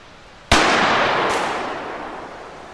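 A single shotgun blast fired with buckshot at a 30-metre target, one sharp loud crack followed by a long rolling outdoor echo that fades slowly, with no talking.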